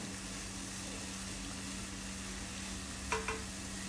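Vegetables for biryani frying in a pan give off a soft, steady sizzle, with a couple of brief clinks of the stirring utensil near the end, all quiet and close.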